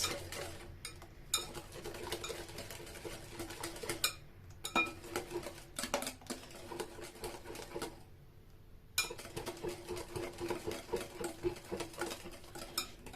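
An electric mixer whirs steadily as it blends beaten eggs, sugar and oil for a cake batter, its motor running almost throughout with a short pause near the middle.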